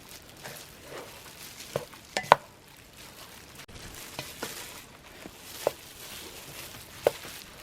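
A beef croquette mixture is stirred and mashed in a bowl, giving soft, quiet scraping and squishing with occasional sharp taps of the utensil against the side.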